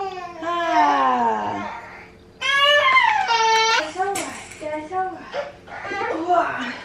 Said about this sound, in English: Baby's getting a little fussy